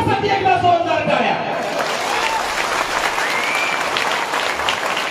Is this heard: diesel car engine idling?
no